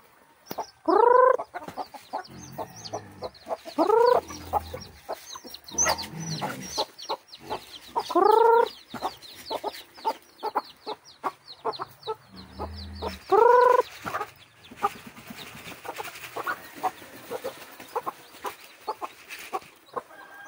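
Chickens cluck and squawk nearby, with several loud rising calls at irregular intervals amid scattered clucks and light background noise.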